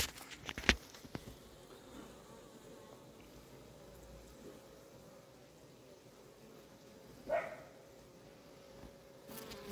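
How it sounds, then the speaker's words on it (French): Honeybees at a hive hum in a faint, steady drone at a distance, with a brief louder buzz passing near the middle and some soft background noise. "Les abeilles ont chaud."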